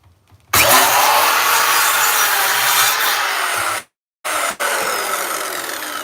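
Handsaw cutting through a wooden door while it is being fitted to its hinges, a loud continuous rasp of strokes close by, broken by a short pause before sawing resumes.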